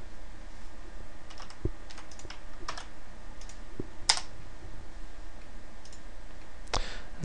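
Code is typed on a computer keyboard in sparse, quiet key clicks with a few sharper taps, over a faint steady room hiss and with no talking.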